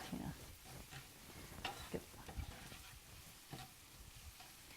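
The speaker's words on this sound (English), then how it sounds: "sauteing it in the butter is just going to bring out the flavor more of the pepper and the onion" Pepper and onion sautéing in butter make a very faint, low sizzle with soft scattered stirring clicks and pan noises, close but quiet, with no voices.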